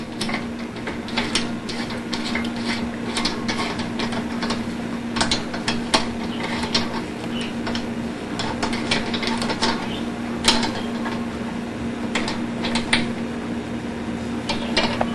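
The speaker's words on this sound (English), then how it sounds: "Now we got our torque wrench on here." A torque wrench tightens screws on a motor during an at-home rebuild, giving a dense run of close metallic clicks and ratcheting ticks over a steady background hum, with no speech.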